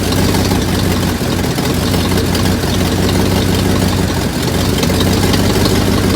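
1990 Ford Mustang engine idling while warming up, a steady loud rumbling idle with an uneven knocking pulse running through it from start to finish.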